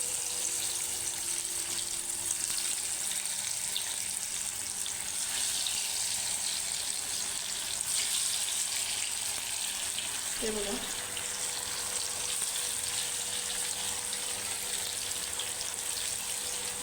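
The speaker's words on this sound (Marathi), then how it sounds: "ज्यांना तळलेलं खायचं आहे त्यांच्यासाठी आपण तळून घेतो" Coriander vadi fry in oil in a home kitchen, a steady dense hiss of sizzling that runs evenly throughout, close and moderately loud, with a brief soft clink midway.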